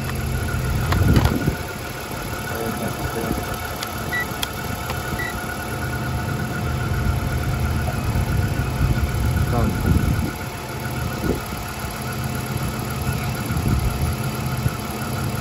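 A Chery QQ3 engine idles steadily with a low, rumbling drone, and a few faint clicks and knocks come through the steady hum; the alternator is overcharging at 16 volts.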